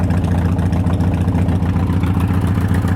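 An engine runs steadily with its throttle jammed, a loud, even low rumble with a constant pulsing drone throughout, no voices.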